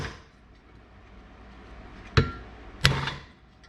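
A big flat-faced hammer strikes a seal being seated onto a brake booster during a rebuild for a Bricklin SV1: two sharp, close metallic taps about half a second apart, after a quiet pause, with no talking.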